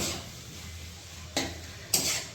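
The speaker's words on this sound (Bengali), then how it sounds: "মটনটা কষুক একটু" Mutton sautéing in a pan for momo filling, a low continuous sizzle broken by two short, loud bursts of stirring or tossing.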